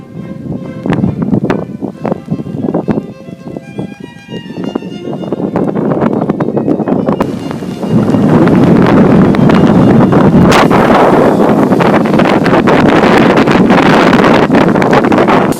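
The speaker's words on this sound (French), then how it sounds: "Saison aussi où il y a énormément, beaucoup de vent." Strong autumn wind from the south buffets the microphone, rough gusty roar building and becoming louder and more constant partway through, with scattered rustling and knocking throughout.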